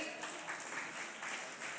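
A crowd at a welcome ceremony applauds the chief guest, a faint, steady patter of many hands clapping that continues through the whole short stretch.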